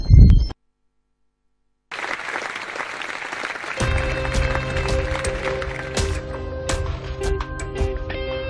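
Audience applause for a singer at a Christmas show, a dense crowd of claps swelling loudly after a short silence, soon joined by music entering underneath.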